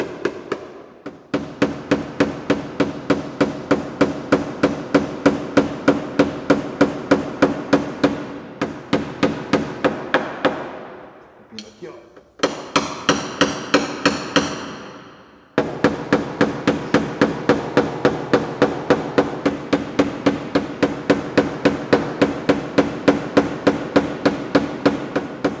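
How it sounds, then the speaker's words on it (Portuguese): Hammer rapidly tapping a car body panel during paintless dent repair, a steady loud metallic rhythm of sharp blows in long runs with a few brief pauses, no talking. "A gente está batendo, quando a gente bate assim"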